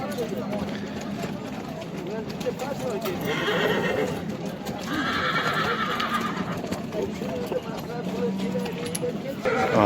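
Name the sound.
horse neighing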